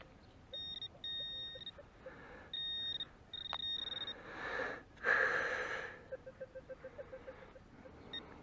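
Metal detector beeping while searching near lakes: several short steady electronic tones in the first few seconds, then a louder warbling signal tone, followed by quieter intermittent blips, all close and clear with no talk.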